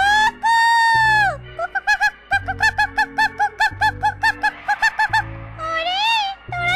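Cartoon hens cluck and call loudly and close up, with a quick, rhythmic run of short clucks between longer, drawn-out squawks at the start and end.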